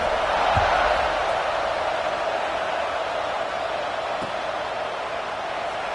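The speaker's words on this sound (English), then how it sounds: "this crowd is buzzing after that last score" A stadium crowd buzzes at a football game, a steady, broad roar of many voices that holds evenly throughout, with a couple of faint thumps underneath.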